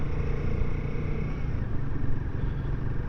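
A 2024 Royal Enfield Guerrilla 450 motorcycle, sharing its engine with the Himalayan 450, pulls away under load with a steady, loud engine rumble, heavily mixed with wind buffeting, for a few seconds.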